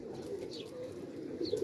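A pigeon coos softly in low, throaty murmurs over a faint hum in the background, with no talking.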